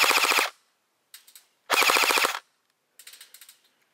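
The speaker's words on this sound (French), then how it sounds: "Allez, encore une petite rafale pour le fun" King Arms Galil SAR airsoft replica firing two short automatic bursts, each a rapid rattle of about half a second, followed by quieter mechanical clatter, close and loud.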